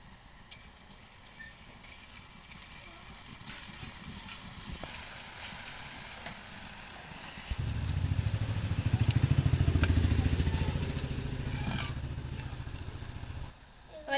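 Boondi batter dripping through a perforated ladle into hot oil, a faint crackle that swells into a steady, louder sizzle partway through, then eases off.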